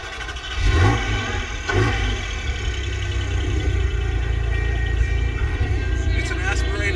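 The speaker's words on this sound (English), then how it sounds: "it's an aspirated engine, six-cylinder" A naturally aspirated six-cylinder vintage car engine at a vintage grand prix event runs loud and close, revving then holding a steady, rough drone throughout with no one talking.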